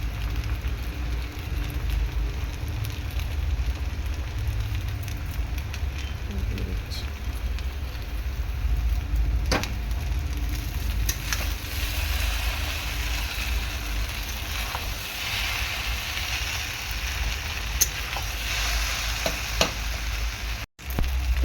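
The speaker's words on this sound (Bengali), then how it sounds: "ভালো করে এরকম তেল দিয়ে ভেজে নেব" Chopped onions frying in oil in a pan for homemade chowmein give off a steady, dense sizzle that runs unbroken and fairly close, with a few faint clicks and no voices.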